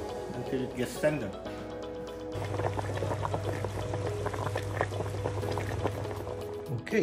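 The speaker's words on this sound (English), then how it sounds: "we'll continue the boiling until it gets tender" Bubbling and gurgling pork belly boiling in a pot of water until tender, continuous and close, with a person talking over it throughout.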